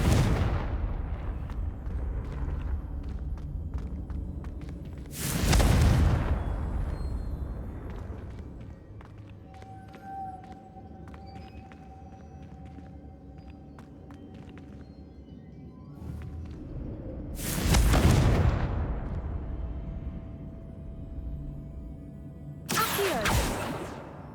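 Three separate Confringo fire blasts from Hogwarts Legacy burst out, well spaced apart over a quiet low game ambience, each a short, sharp whoosh-boom with no talk.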